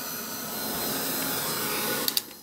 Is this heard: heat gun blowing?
yes